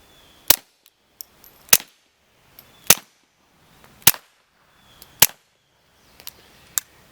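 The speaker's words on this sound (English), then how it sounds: "So this, with this can though, is so quiet. I mean, it's just like a pellet gun." Suppressed S&W M&P 22 Compact .22 pistol firing six sharp, quiet shots at uneven intervals of roughly a second, each a crisp crack with a short tail, no voices.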